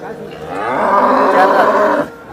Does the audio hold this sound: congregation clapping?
no